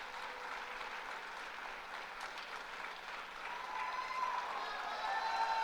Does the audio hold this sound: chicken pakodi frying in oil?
no